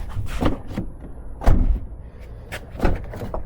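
Door of a Chrysler 300 thumps shut in a garage, several dull slams and knocks spaced over a few seconds, fairly close and loud.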